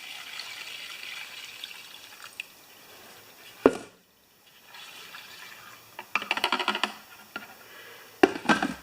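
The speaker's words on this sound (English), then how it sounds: "This is my Tecumseh tank with the shut-off, and I'm putting some fresh premium fuel in here." Fresh premium fuel poured into a Tecumseh fuel tank with a shut-off, heard as faint close trickling and dripping, broken by a short silent gap and followed by louder sloshing splashes, with no talking.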